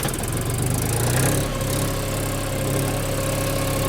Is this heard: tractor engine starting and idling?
yes